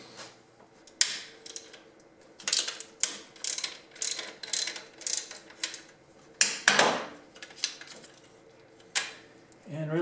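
A hand ratchet clicks in repeated short bursts while loosening a nut on a car alternator wiring harness, close and fairly quiet, with metallic clatter between strokes.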